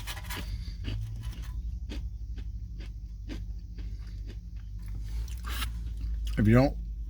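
Crunchy bites and chewing of a hard Amish peanut butter chocolate chip cookie come close up as a series of short crisp crackles, with brief spoken sounds breaking in between.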